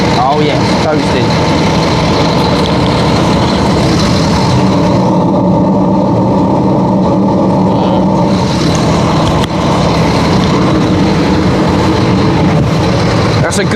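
A crane truck's diesel engine roars steadily at high idle in winter, a loud, continuous rumble with no breaks, while people talk nearby over it.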